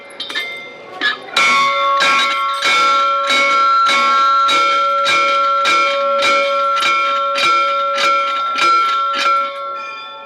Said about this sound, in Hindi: ये घंटा बजाइए, देवी को कानों तक अपनी आवाज़ पहुंचाइए